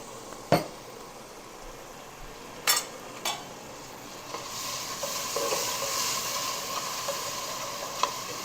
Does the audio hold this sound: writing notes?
no